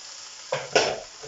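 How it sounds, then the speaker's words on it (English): Butter or another ingredient melting in a saucepan for a Florentine fish pie, a quiet background hiss broken by two short bursts of sizzling as it hits the hot pan, near and with no talk. "So that's just going to melt down in the saucepan."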